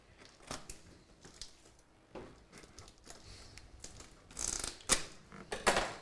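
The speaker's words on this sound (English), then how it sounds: "Maybe I could borrow some scissors." Quiet crinkling and snipping, with a few sharper cuts and rustles toward the end, like scissors working through stiff packaging in an office.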